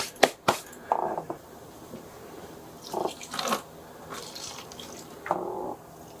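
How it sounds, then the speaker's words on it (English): Water poured onto tomato seedlings in pots indoors, arriving in short splashing bursts with gaps between, close and moderately loud, alongside a few sharp knocks at the start. "and then we'll water them in."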